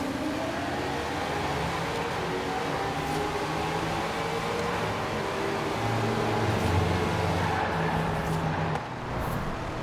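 Car accelerating from a rolling start in a Forza Horizon 4 roll race, a continuous loud engine roar that climbs steadily in pitch with traffic noise around it.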